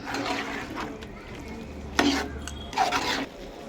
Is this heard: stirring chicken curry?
yes